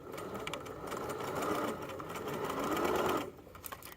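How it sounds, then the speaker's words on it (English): A sewing machine stitching the side seam of pajama pants: steady, close mechanical whirring that runs continuously for about three seconds, then stops abruptly, leaving faint handling noises. "So we'll go ahead and sew now."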